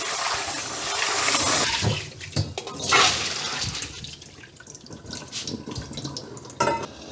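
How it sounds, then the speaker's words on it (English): Water runs from a tap into a sink, splashing and gurgling unevenly with brief pauses and bursts as beans are rinsed. "Rinsing the beans, get it ready to cook."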